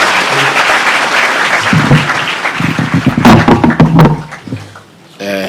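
Applause from a school audience gathered for an address by the Deputy President in Nandi, heard as a dense, continuous wash of clapping through most of the clip with some louder thumps and a brief voice near the end.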